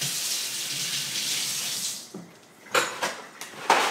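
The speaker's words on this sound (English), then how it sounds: "I'm just gonna rinse it off." Tap water runs steadily into a sink for about two seconds while figs are rinsed, then cuts off, followed by a few close, sharp clinks and handling sounds.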